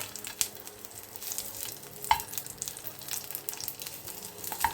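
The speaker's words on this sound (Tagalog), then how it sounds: "Initin natin ang ating kawali. At ilalagay ko na yung bawang." Crushed garlic frying in a hot pan for a home dinner of sinangag, a steady crackling sizzle with a few sharper pops and clicks, close and fairly quiet, no talking.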